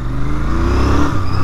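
A 2024 Royal Enfield Continental GT 650 in British Racing Green is ridden for a braking test, its engine note droning loud and close with a steady low rumble and a slight shift in pitch as it slows.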